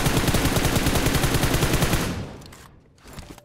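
Rapid automatic gunfire rattles in the mobile battle royale game BGMI, a loud, dense burst of evenly spaced shots for about two seconds, then fading into a few scattered distant pops.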